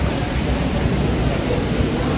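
Steady rushing water of an indoor waterfall in a Bangkok shopping mall, a dense continuous hiss and roar with no breaks, fairly loud and close.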